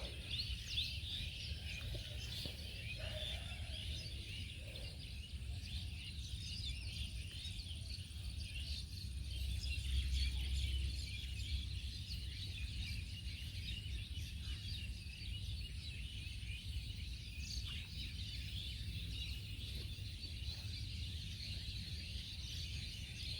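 Countryside ambience with birds chirping among steady insect or cricket buzzing, a continuous outdoor bed at moderate level with no talk.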